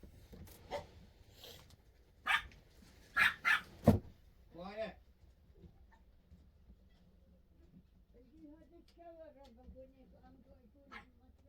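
Several dogs bark excitedly indoors in a quick burst of sharp, loud yaps that trail into a whine, followed by quieter talk and faint household noise.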